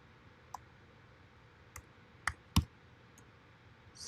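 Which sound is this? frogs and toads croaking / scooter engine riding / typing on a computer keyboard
typing on a computer keyboard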